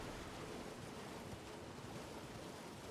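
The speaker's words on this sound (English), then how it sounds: "Nothing hidden behind that waterfall." Steady broadband rush of a waterfall in the video game Elden Ring, a continuous dense wash of falling water filling the whole stretch at an even level with no talk over it.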